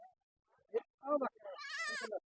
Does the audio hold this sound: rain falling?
no